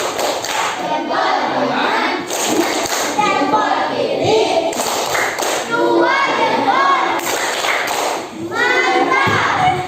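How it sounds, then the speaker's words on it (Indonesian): A class of children claps together in a quick rhythmic thumb-clap pattern, bursts of loud hand claps and taps repeated over a steady classroom murmur of kids' voices. "Kita kasih tepuk jempol. Tepuk jempol."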